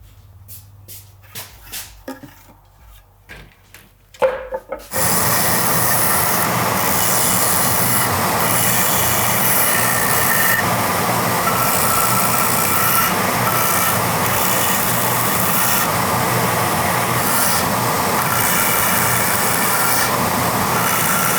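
A 2x72 belt grinder hollowing grooves into wooden halves of a sword scabbard. A few seconds of quiet handling and clicks come first, then the grinder starts and runs as a loud, steady, rough whir to the end.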